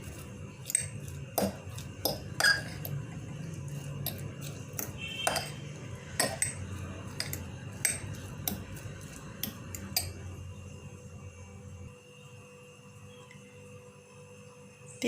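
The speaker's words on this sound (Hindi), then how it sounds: "अंडे को फेंट देंगे अच्छी तरह से।" Eggs are beaten in a bowl for a street-style egg burger. Quick, irregular clinks of metal against the bowl come fairly faintly and stop shortly before the end.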